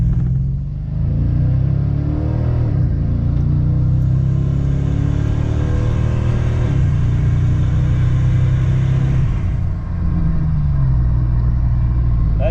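A car on small tires launches hard from a standstill in a 0-60 run, its engine noise a loud, deep, sustained interior drone that climbs and dips through gear changes.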